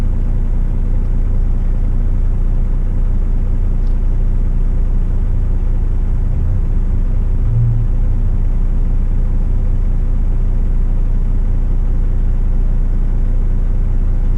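A truck engine, the vehicle at 105,000 kilometres, drones steadily while driving, a continuous low rumble with no talk over it.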